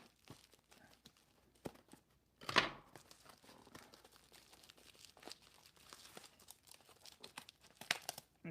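Faint crinkling and tearing of packaging as a mail package is cut open, with scattered small crunches and one sharper rip, quiet and close.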